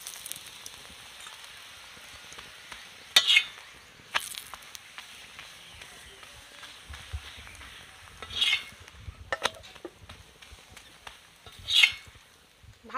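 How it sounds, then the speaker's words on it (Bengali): Laddus fry in a pan with a little oil, a faint, quiet sizzle broken by a few louder bursts of crackle and scraping as they are turned, with no voices. "অল্প অল্প করে তেল দিয়ে দিয়ে ভাজতে হবে।"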